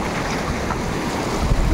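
Water flowing across a crossing at Turkeshwar Dham, a dense, broadband rushing wash heard close and fairly loud, with wind buffeting the microphone and no voices.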